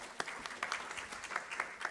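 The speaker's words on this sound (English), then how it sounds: "Round of applause for him." Scattered audience applause at a university urban design forum, a short burst of hand claps from a modest crowd, fairly faint and heard alone.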